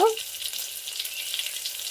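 Tempering spices with dried red chillies frying in oil for an Andhra-style mango moong dal rasam, a brief close sizzle with an even high hiss, following a short clink at the start.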